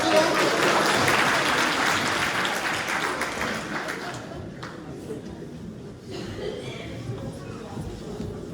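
A church audience at a choir's Christmas in July concert claps loudly and steadily, and the applause thins and fades over several seconds while a voice talks over it.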